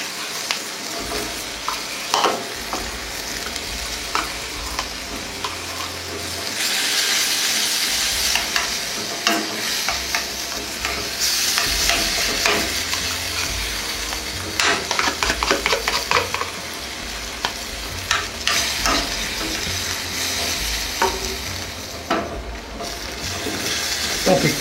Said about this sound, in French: On fait cuire un peu la crème.